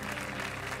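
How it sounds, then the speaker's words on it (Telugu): Congregation at a Christian revival meeting in Bhimavaram clapping hands loudly together, a dense continuous wash of applause from a large crowd, steady and close throughout. "ఏదో ఒక్కసారి గట్టిగా చప్పట్లు కొట్టండి"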